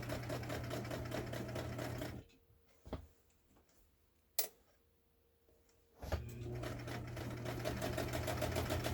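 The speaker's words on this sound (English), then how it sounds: "So this is a good heavy duty machine. It'll handle just about anything you want to sew" A Brother 230 Galaxie heavy-duty sewing machine stitching over a thick, bulky seam, running in a steady rapid mechanical chatter, pausing briefly with a few clicks, then resuming at full speed.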